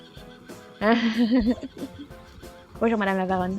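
Horse neighs in the game Star Stable Online, two loud close whinnies with wavering pitch, while someone talks in French around them.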